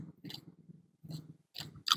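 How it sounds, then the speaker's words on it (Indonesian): Close, quiet chewing of fatty pork skin, with several soft moist chews in an uneven rhythm separated by brief pauses and no talk. "Ini kulit babinya saat dikunyah itu mungkin lemaknya itu ya agak-agak nempel-nempel di gigi gitu guys."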